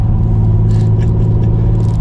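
A 2021 Audi RS5 Coupe turbocharged engine hums steadily at low revs, a deep continuous drone heard from inside the cabin with faint rustling on top.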